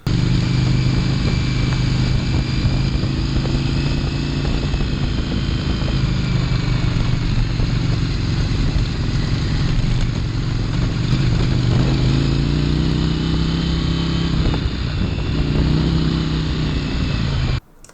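An Indian FTR1200RR motorcycle rides on the road, its engine giving a steady loud drone and rumble that rises and falls slightly with throttle for the whole stretch, then cuts off abruptly at the end.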